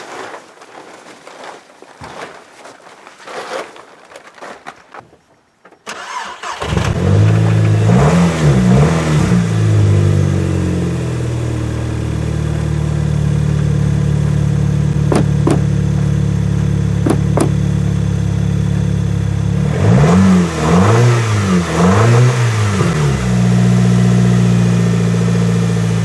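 After a brief quiet stretch, a vehicle engine fires up and idles loudly up close, then blips the throttle in repeated revving surges around the start and again later, with steady idle between.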